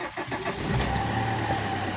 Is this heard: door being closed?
no